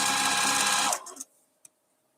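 A sewing machine whirs steadily while stitching fabric, running close and loud for about a second before winding down, followed by a couple of soft clicks and quiet.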